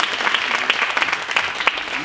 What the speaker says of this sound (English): We have a first round of applause just for all of our acts tonight already